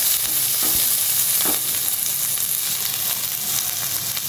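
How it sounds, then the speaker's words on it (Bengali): Green chilies fry in hot mustard oil, a loud, continuous sizzle close up with occasional stirring scrapes. "কাঁচামরিচ একটু ভাজবো"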